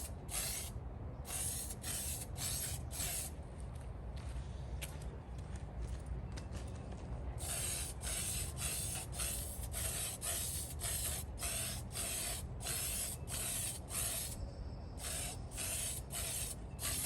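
Spray paint hissing onto a blade of an 88-year-old rusted Robbins and Meyers Type 1204 industrial fan, long continuous bursts broken by brief pauses, close and steady.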